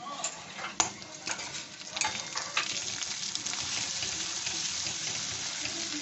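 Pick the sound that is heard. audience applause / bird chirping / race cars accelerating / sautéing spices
sautéing spices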